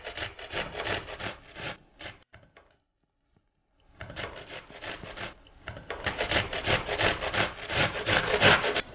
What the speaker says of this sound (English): So you're going to start by just shredding an onion here.